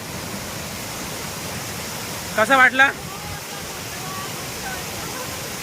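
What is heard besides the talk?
waterfall at Manor Dam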